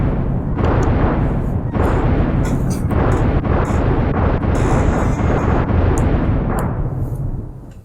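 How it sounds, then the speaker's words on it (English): Enemy exploding in the action RPG Secret of Evermore: a loud, sustained rumbling blast with repeated crackling bursts, continuous for several seconds before fading at the end. "And he exploded."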